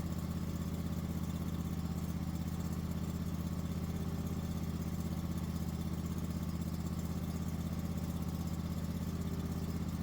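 A car engine idles steadily throughout while a battery tester runs, a continuous low rumble with no revving, close by and with no one speaking.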